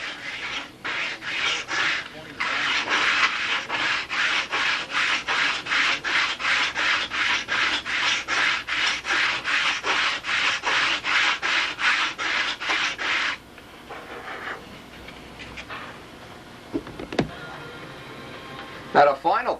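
Rapid rhythmic strokes of a sanding block rubbing wooden model aircraft ribs, close and even, continuing for over ten seconds before fading to quieter scraping and a few knocks.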